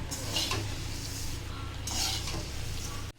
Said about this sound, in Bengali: সবকিছু একসাথে আবারও মিশিয়ে নিচ্ছি